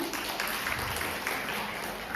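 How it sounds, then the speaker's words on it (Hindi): Audience applause at a Raj Kapoor centenary celebration, a steady, fairly faint wash of clapping throughout. "जोरदार तालियां"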